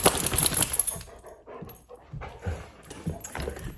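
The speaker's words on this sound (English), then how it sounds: "The puppies are like wrestling right here." Two puppies wrestle close by, panting, huffing and letting out small whimpers and growls in irregular bursts, with scuffling in the first second.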